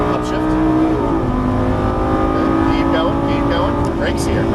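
An exotic sports car accelerating hard around the Las Vegas Speedway, its engine droning loud and steady with rising and shifting pitch throughout, while an instructor's voice talks over it.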